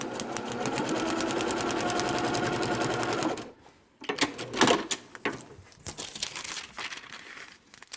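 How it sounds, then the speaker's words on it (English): A sewing machine stitches quilt block fabric with a fast, steady close whir for about three seconds, then stops, followed by crinkling fabric and handling noises. "Flip it over, and sew on the line between 3 and 4."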